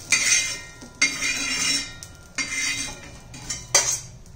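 A spoon scrapes roasted coconut, peanuts, garlic, ginger, curry leaves and spices out of a pan, giving a few close bursts of metallic scraping and clinking separated by short pauses.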